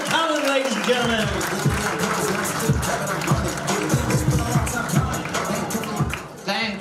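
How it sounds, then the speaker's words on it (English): Comedy club audience clapping and cheering to welcome comedian David Callan onto the stage, a sustained, lively burst of many hands with a few shouts mixed in, tapering toward the end. "Start the round of applause now"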